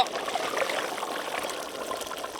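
Spiced water pours steadily into a pot of donne biryani, a continuous soft trickling splash with no voices.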